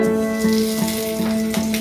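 A bay leaf sizzles in hot mustard oil in a wok, a soft steady crackle beneath a continuous droning hum nearby.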